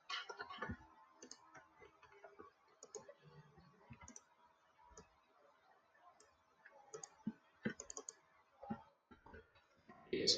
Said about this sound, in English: So let me type that out.